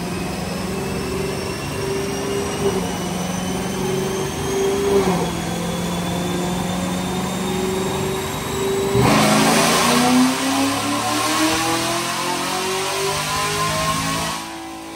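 2022 Chevy Camaro SS V8 engine on a dyno, revving with rising pitch through a sustained pull, loud and close, with a brief shift dip midway and a heavier roar near the end.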